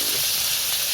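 Shallots sautéing in hot oil make a short, loud, even hiss that stays steady for under a second.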